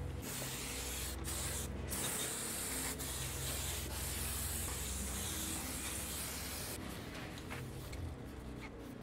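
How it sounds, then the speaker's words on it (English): Brake cleaner hisses in several sharp spray bursts onto a BMW 535i E60 transmission pan, between stretches of rag rubbing and wiping over a low steady hum, close up with no talking. "spray it down with some brake clean and just wipe all of this"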